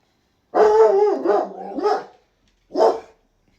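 A pet dog barks loudly and close by, one long drawn-out howling bark followed after a short pause by a second sharp bark, against silence.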